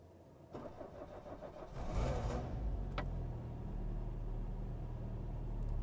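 A 1985 Citroën CX Pallas automatic with a 2.5-litre injection engine cranks briefly, catches and settles into a steady, close idle.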